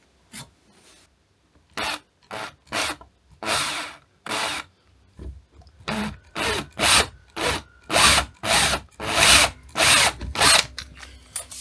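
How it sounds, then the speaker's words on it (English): A cheap power drill bores repeatedly into the wooden frame of an IKEA sofa during a spring repair, roughly a dozen short, loud, raspy bursts separated by brief pauses, close up with no talking. "they're only very cheap drills, so we'll see if it actually lasts"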